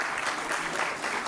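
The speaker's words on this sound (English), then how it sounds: "Again, big round of applause." Brief burst of applause from the audience at a law school convocation ceremony, a dense, even patter of many hands clapping at a distance.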